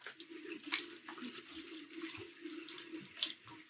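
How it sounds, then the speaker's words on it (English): Running water from a tap splashes while someone wets their face with cold water before shaving, a steady close rush with brief louder splashes throughout. "I'm going to wet my face real quick."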